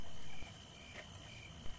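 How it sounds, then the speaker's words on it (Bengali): Crickets chirp in a steady, faint high drone on a cold, quiet night road, continuous through the whole stretch with no other sounds standing out. "কানে ভেসে আসছে শুধু ঝিঝি পোকার ডাক।"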